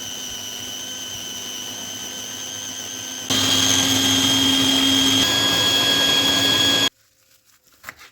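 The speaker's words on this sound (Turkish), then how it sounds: "Maydanoz hariç tüm malzemeyi rondodan geçirelim." A food processor whirs steadily, chopping vegetables and garlic for lahmacun topping, then jumps to a louder, higher-pitched motor drone for several seconds before cutting off abruptly into near silence.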